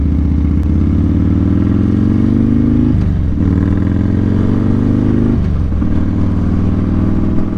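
A motorcycle passes close by with a loud, steady mid-pitched engine drone, its pitch rising in a few surges as it accelerates and shifts.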